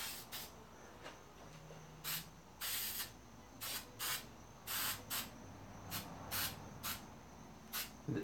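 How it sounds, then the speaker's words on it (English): Water-based acrylic spray gesso hisses out of a can in about a dozen short, sharp bursts, separated by brief pauses, fairly close and with no voices. "So a spray gesso, this is essentially a spray water-based spray paint."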